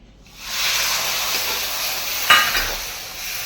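Roasted semolina with milk and cream poured in and stirred in a pan, a loud hissing steam-and-sizzle that rises quickly and holds steady, with a brief clink partway through.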